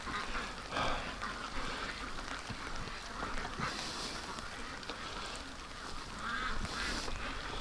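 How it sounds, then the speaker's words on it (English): Small ducks, including a Muscovy, quack and honk outdoors in a continuous, overlapping chorus of calls at moderate distance, with a few louder bursts rising out of the steady flock noise. "Oh, little ducks."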